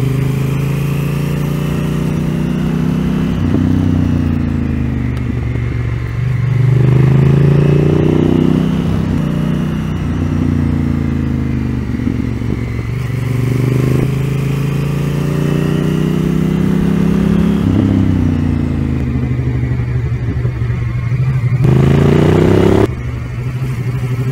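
A motorcycle engine drones continuously, its pitch rising and falling repeatedly as it slows and accelerates through a series of bends, with a steady rumble throughout.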